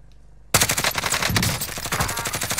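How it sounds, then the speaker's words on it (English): Rapid automatic gunfire in the video game Warzone bursts in abruptly after a quiet moment, a loud, dense string of close shots that continues without pause. "I'm taking fire."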